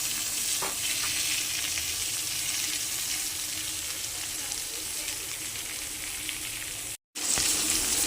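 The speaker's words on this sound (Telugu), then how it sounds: "ఇలా గోల్డెన్ బ్రౌన్ కలర్ వచ్చేంత వరకు వేయిస్తే సరిపోతుంది" Upma ingredients fry in a pan until golden brown, a steady close sizzle that continues evenly throughout, broken only by a brief cutout near the end.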